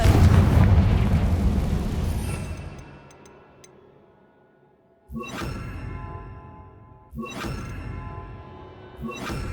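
Confringo blasting spell in Hogwarts Legacy: a big booming explosion that rumbles and slowly fades, followed by two sharper, ringing impact bursts with shimmering tails, heard alone without talk.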